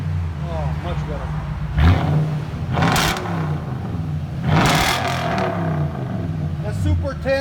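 A 2015 Toyota Tundra 5.7L V8 with Flowmaster Super 10 mufflers on true dual exhaust, revved twice in loud rising bursts over a steady idle rumble, with people talking nearby.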